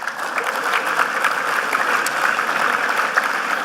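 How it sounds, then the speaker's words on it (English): A large audience applauds throughout a football club's season launch event, a dense, steady wash of clapping at fairly close range with no talk over it. "Would you give them a round of applause?"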